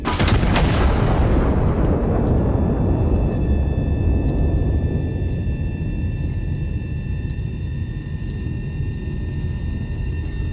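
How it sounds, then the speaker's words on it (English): Artillery gun firing in the video game Iron Nest: one loud, sharp boom at the start that decays into a long rolling rumble, with a faint tonal hum lingering behind. "Gun armed. Go ahead and arm it. Fire in the hole!"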